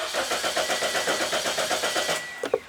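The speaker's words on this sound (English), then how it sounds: "So now I'm gonna go in the vehicle so I can crank the engine." A Toyota Corolla engine cranks over without firing, the starter turning in a steady rhythmic chug of about fifteen even pulses, close and loud, before cutting off with a couple of faint clicks.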